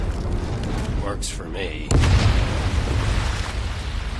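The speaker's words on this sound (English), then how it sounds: "That explosion got the attention of all the German patrols in the area." An explosion goes off in the video game Medal of Honor Above and Beyond, a deep booming blast with a rumbling tail that follows brief talk.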